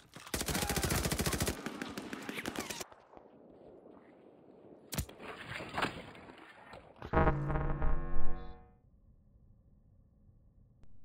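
Rapid bursts of Type 100 and MP40 submachine-gun fire in a Call of Duty Vanguard Search and Destroy match, loud and close, with a long sustained volley, a sharp crack, then clattering shots and a fading tail.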